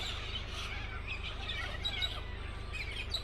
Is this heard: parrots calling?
yes